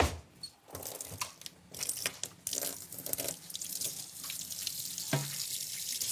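Tap water runs over a raw sea bass fillet being rinsed in a kitchen sink, a broadband splashing wash that rises and falls in short bursts with a few gaps, fairly close.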